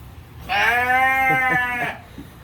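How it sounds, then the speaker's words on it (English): A single sheep bleats loudly and close by inside a barn, one drawn-out wavering cry lasting over a second, with no voices. "I'm back here with the sheep"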